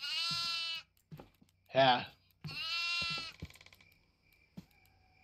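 Goats bleating in the horror video game Devour: two long, loud, wavering synthetic bleats with a short rasping cry between them, followed by small game noises, while a player briefly speaks.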